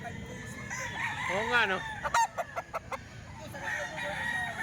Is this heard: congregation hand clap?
no